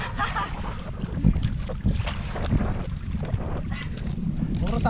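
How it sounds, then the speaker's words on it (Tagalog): Strong northeast monsoon wind roars steadily across a small fishing boat at sea while sapsap are hauled in, a continuous gusty rush of wind buffeting the microphone over a low rumble of water and hull. "Ang lakas na naman ang amihan ngayon guys."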